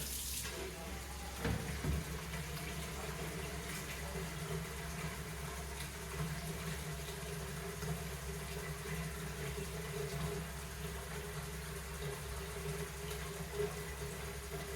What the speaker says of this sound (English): Fill the rest of it with water.